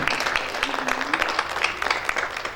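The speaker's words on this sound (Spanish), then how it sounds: "Un fuerte aplauso para él, con mucho cariño" An audience at an evening parenting-school session applauds the pastor, a short burst of many hands clapping together that holds steady for under three seconds, with a voice faintly mixed in.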